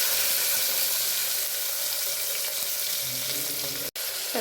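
Onions sauté with fennel in a pan for tomato kurma, giving a steady, close hiss of frying that runs unbroken except for a momentary dropout near the end.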